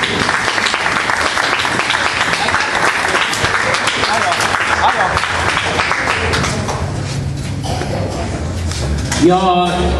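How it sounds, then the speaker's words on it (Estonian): A crowd at an outdoor ribbon-cutting ceremony applauds loudly in sustained, dense clapping that thins out toward the end, where a voice begins speaking. "Aplaus."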